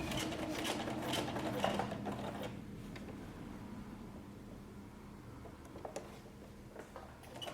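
A twin-needle sewing machine topstitches a patch pocket with a quiet, steady mechanical whir and faint ticking. It starts a little louder and fades to a softer hum, with a few small clicks near the end.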